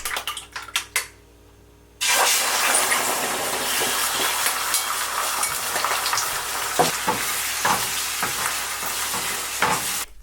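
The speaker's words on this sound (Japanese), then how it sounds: "油を大さじ2なじませたフライパンに塩、胡椒をした卵3個を炒めます" Three eggs seasoned with salt and pepper hit a frying pan coated with two tablespoons of oil. After a few knocks comes a loud, continuous sizzle, broken by scraping stirs that gently rise and fall.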